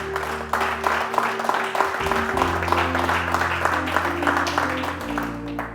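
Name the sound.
congregation applauding the Lord in church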